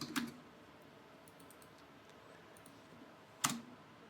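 A computer keyboard tapped a few times during a command-line session, giving sparse, quiet clicks near the start and end with near silence between.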